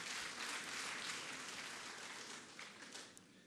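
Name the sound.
applause for the President of the Republic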